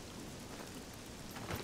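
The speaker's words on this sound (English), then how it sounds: "it's just started raining" Rain falling in the survival game Scum, with a steady, even hiss of rainfall near a military bunker and a brief louder patter swelling near the end, no voices.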